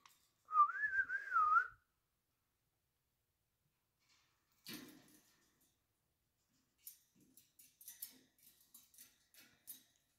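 A farm bird gives one clear, wavering whistle lasting about a second, followed by quiet scattered clicks and soft taps.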